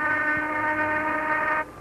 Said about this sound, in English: There goes the noon whistle.